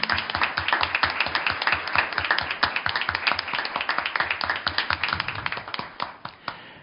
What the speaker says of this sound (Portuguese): eu peço aplausos de boas-vindas a ele